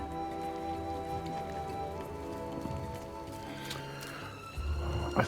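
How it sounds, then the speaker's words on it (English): Rain patters steadily in the video game Disney Dreamlight Valley, a soft continuous hiss over tonal game music, with a few louder splashy bursts toward the end. "it started raining now."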